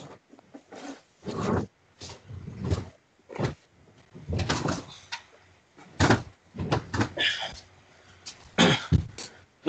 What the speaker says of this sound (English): I'll see if it's in the drawer actually.